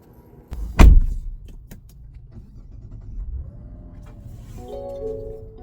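A trunk lid on a 2024 Mazda CX-90 Turbo S shuts with one loud, close thump, followed by a low idling hum and a faint whirring motor near the end.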